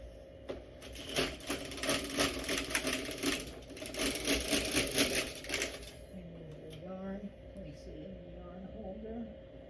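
An LK150 knitting machine carriage slides across the needle bed with a rapid, rattling mechanical clatter for about six seconds, then stops as a person speaks over quieter handling noises.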